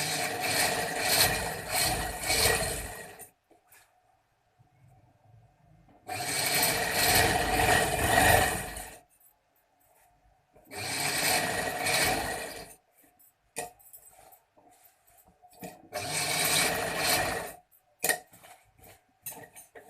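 A sewing machine stitches the placket edge of a boys' kurta in four loud, steady bursts of a few seconds each, separated by quiet gaps with light clicks of fabric handling.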